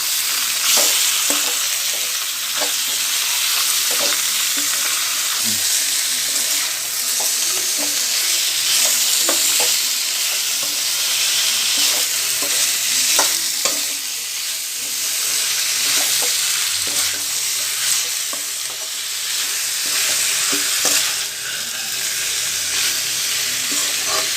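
Boneless chicken for a Pallipalayam chicken fry sizzles steadily in a pan, with a continuous bright hiss and repeated scraping strokes of stirring, close and alone.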